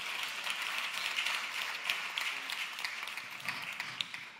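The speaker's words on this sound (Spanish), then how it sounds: "Un fuerte aplauso para él, que ya sale para allá." Applause from a conference audience as a speaker heads to the stage, a steady patter of many hands clapping at moderate distance with no voices over it.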